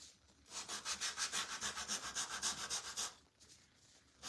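A gator sanding tool is rubbed back and forth along the edges of a craft piece, making about a dozen quick, even scraping strokes close up that stop abruptly, with soft background noise afterward.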